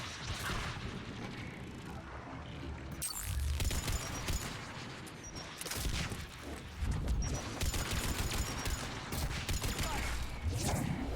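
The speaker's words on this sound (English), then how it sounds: "Just heard the gun firing and there's me out of cover completely." Gunfire in the video game Mass Effect 3: bursts of rapid shots and booming impacts crowd a dense, loud battle mix, with brief breaks between volleys.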